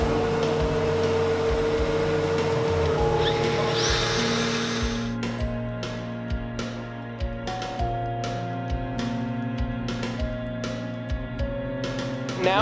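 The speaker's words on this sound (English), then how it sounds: "re-drill the hole, and give a little bit of wiggle room for our screw to actually set in properly" Power drill re-drilling a screw hole in a wooden table, a sustained motor whine at first, then a series of short stop-start bursts and ticks, close by with no talk.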